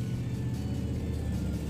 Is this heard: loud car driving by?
yes